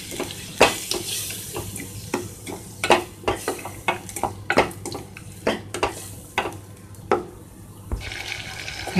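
Spices with turmeric and salt being fried in a pan for a prawn, potato and beans curry, with repeated scraping stirs and clinks against the pan over a steady low sizzle, close and fairly loud, with no talking.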